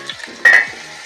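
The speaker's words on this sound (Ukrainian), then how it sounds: "коли рулька смажиться" Pork knuckle frying in oil in a pan gives a steady close sizzle, with a brief louder clatter partway through.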